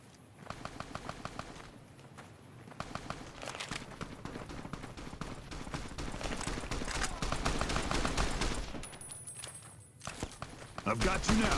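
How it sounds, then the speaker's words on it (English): Rapid gunfire from Legion soldiers in Fallout: New Vegas, a steady crackle of shots with brief bursts, with some footstep-like clatter and a player's voice over it. "So there's more Legion over there shooting at people."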